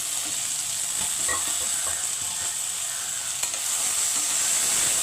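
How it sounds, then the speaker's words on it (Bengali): Okra pieces sizzle steadily in hot oil in a pan, a bright continuous frying hiss with occasional stirring clicks, no voices. "এবার আমি ঢ্যাঁড়সগুলো দিয়ে দিই একটু ভেজে তুলে নিই"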